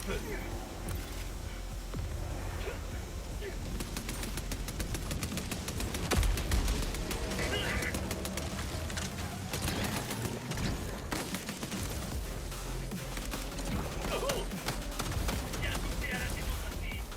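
A heavy machine gun in the video game Helldivers II fires in long, rapid bursts of dense, crackling shots, loud and steady through the middle, while someone talks over the gunfire.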